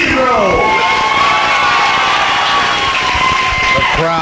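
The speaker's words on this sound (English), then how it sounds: "The crowd making some noise." A wrestling crowd at a Casa de Hardcore anniversary show cheers and shouts loudly and continuously, with whoops rising above a dense roar. An announcer's voice carries over the noise.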